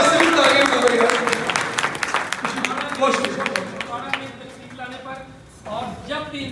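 Audience applause at a medical conference hall, a dense spread of clapping that starts strong, thins out midway and swells again near the end, with a voice speaking over it.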